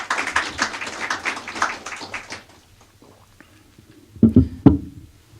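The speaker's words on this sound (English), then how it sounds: "And if we can give the sheriff a round of applause," A brief burst of audience applause for the sheriff at a budget press conference, dense clapping fading out after about two seconds into a quiet room, followed by a few close thumps or knocks.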